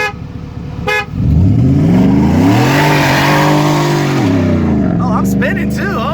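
A Genesis and a supercharged Ford F150 launch side by side from a dig in drive, engines roaring loud and close as tires spin and squeal; a horn toots briefly before the launch and voices chatter near the end.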